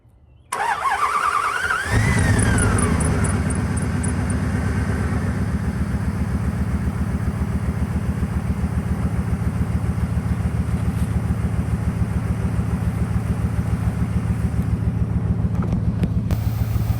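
A Dodge engine cranks and fires right up, then settles into a steady, loud, close-up idle. The idle is rough and pulsing with the chuff of a bad exhaust leak.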